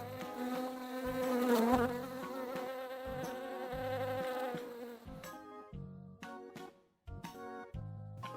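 A buzzing bee drones continuously for several seconds over a bright children's-song backing, the insect hum rising and wavering before the music turns choppy and percussive.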